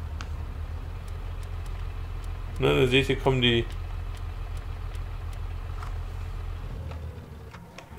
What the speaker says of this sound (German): Wenn ich den Motor anmache